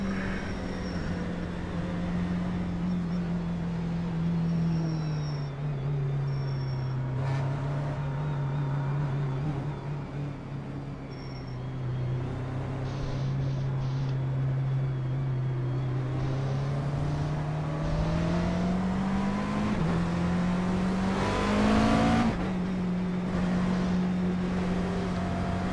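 A McLaren race car in iRacing drives with a continuous engine drone that rises and falls with throttle and gear changes, climbing to a higher pitch toward the end, loud and close with no talk.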